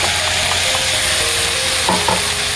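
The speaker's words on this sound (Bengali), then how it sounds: "তো যতক্ষণ নাড়তে থাকবে, যতক্ষণ না জলটা শুকিয়ে যায় ততক্ষণ কিন্তু নাড়তেই থাকতে হবে।" Ridge gourd paste, fried and blended, stirred steadily in a hot pan, giving a continuous sizzle with soft scraping strokes throughout and no talking.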